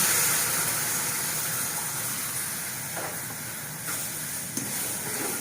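A pan of fried semolina hisses and sizzles loudly as a little milk is poured in, a continuous steamy roar with faint clinks, close and alone.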